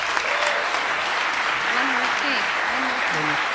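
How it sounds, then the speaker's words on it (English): An audience claps in a warm, sustained round of applause for David, dense and even throughout, with voices calling out over it. "let's give David a warm round of applause"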